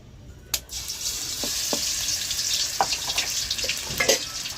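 Ginger garlic paste dropping into hot oil in a pan at home, giving a steady close sizzle after a sharp opening hiss, with a few light clicks and taps scattered through.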